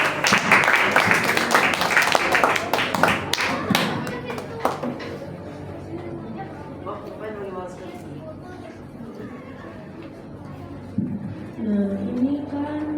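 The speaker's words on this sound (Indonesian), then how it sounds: "Yuk tepuk tangan buat Intan yuk biar semangat." Audience clapping hands in a dense burst for the first few seconds, fading out as speech takes over for the rest.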